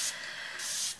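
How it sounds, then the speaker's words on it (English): Two quick hissing bursts from a spray bottle misting water onto a watercolor paint palette, close and clear with a short gap between them. "spraying some water on top of my watercolors to make them wet."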